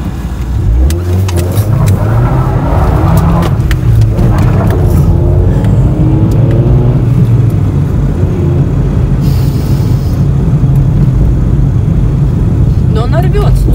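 A front-wheel-drive Honda Prelude pulls hard from a standstill, its engine note climbing steadily and loud throughout, with people talking over it inside the car.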